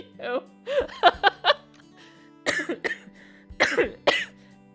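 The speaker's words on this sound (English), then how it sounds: "my cough is still not away" Several sharp coughs in quick bursts, close to the microphone, mixed with throat-clearing and a bit of voice between them.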